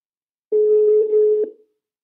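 A single telephone ringback tone sounds while a call is placed to a mobile phone, one steady tone of about a second, clear and alone with no talk over it.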